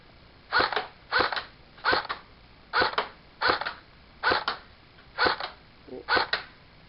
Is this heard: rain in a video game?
no